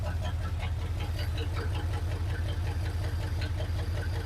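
A 1980 Chevrolet C/10 square-body Cheyenne truck engine idles close by with a steady, even low chugging pulse, running alone without talk.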